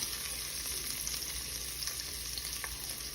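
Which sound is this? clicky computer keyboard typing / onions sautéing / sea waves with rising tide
onions sautéing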